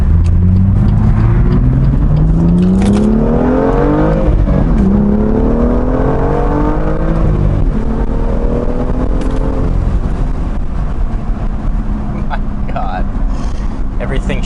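A BMW M2 engine revs loud and close, climbing repeatedly through the gears with brief dips at each shift, then easing off into a lower rumble; a voice talks over part of it.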